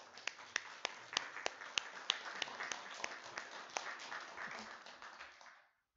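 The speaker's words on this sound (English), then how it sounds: "please give applause to all our fathers here" Church congregation clapping for fathers on Father's Day, faint and sparse, with a few distinct sharp claps standing out over a soft bed of scattered applause that stops abruptly.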